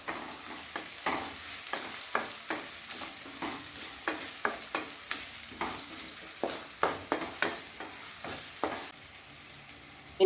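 Chopped medium onion, salted, frying in a pan and stirred with a utensil, a close sizzle under a steady series of rhythmic scraping strokes, about two per second, with no voices.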